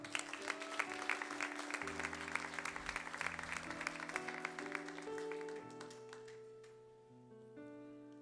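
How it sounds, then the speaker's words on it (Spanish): Church congregation claps loudly during a Spanish-language sermon, a busy burst of hand claps that thins out as sustained keyboard or organ tones enter and carry on alone. "Denle un fuerte aplauso al Señor,"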